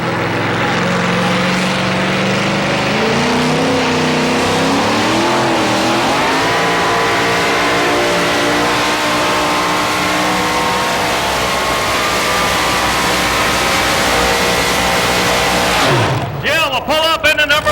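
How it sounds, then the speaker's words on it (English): Race car engines from a 1987 TNT Raleigh race roar loudly and continuously at the green flag start, rising in pitch as they accelerate, with a commentator talking over the noise and a sudden burst of clatter near the end. "Nail the engine real quick and real hard as Lyons gets ready to roll."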